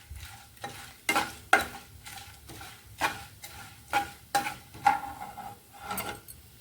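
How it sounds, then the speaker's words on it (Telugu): A tempering fries in a pan while a spoon stirs it, sharp scraping strokes recurring about every half second to second over a low, constant sizzle. "తిరగమూత బాగా వేగాలండి"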